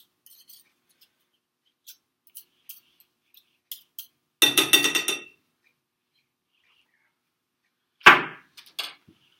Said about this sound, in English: I like to take a spoon through my whisk to get all the pieces that are sticking to it